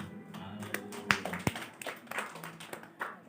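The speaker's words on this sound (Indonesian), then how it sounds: "Beri tepuk tangan terlebih dahulu." Scattered hand claps from a church congregation at a Sunday service, a few sharp ones standing out over a low murmur, more sparse clapping than full applause.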